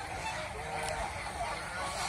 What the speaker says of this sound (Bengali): এই যে আর একটা হাঁস বাউ নিতেছে,